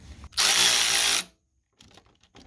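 A power tool whirs to loosen a 12mm bolt on the 1.6 GDi engine of a Hyundai Veloster, one loud, close, steady burst just under a second long, then silence and faint rattling.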